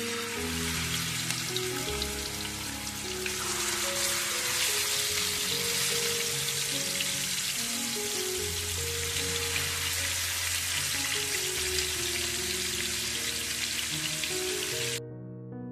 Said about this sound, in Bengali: মাছগুলোকে ওদিকে তো ভাজা চড়িয়ে দিয়েছি